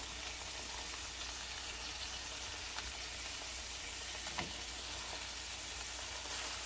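Sausage patties cut into halves fry in a pan for an American breakfast, giving a faint, steady sizzle with a few soft pops, quiet and continuous throughout.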